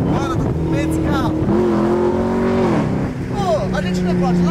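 A supercharged Chevrolet Camaro convertible accelerating: a loud, close engine rising in pitch, dropping briefly as the gear shifts, then climbing again, with a person talking over it.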